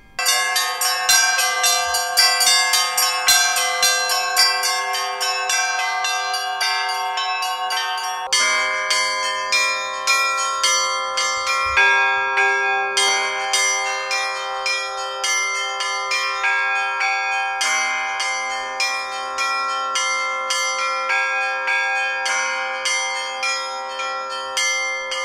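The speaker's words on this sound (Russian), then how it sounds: "Здесь же провели фестиваль колокольного звона." Church bells ring at an Orthodox Cossack bell-ringing festival: several tuned bells peal together in a continuous, rhythmic, ringing pattern with regular strikes and long overlapping tones, loud and unaccompanied by speech.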